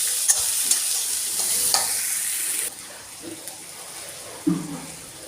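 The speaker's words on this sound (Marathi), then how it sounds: "याला चांगलं फ्राय करून घेते" Onions and curry leaves fry in a pan with a bright, hissing sizzle and a few scraping stirs; the sizzle fades abruptly partway through, leaving quieter stirring clatters close by.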